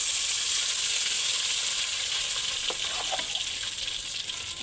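A blended chickpea and lentil mixture fries in a mix of ghee and oil, giving a steady bright hiss and sizzle close up. A few faint clicks and spatters sound near the end, with no voices.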